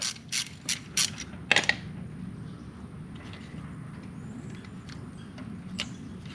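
A ratchet loosens the brake caliper pin on a Can-Am Spyder F3 during a rear brake pad change, a few quick close clicking bursts at the start, then faint scattered taps over low background hum.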